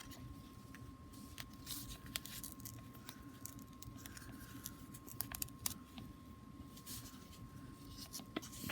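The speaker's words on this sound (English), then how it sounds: "Trim this little piece off." Small scissors snip thread and foundation paper from a Lillyella stitchery butterfly charm block, giving quiet, scattered clicks and cuts over a soft rustling background.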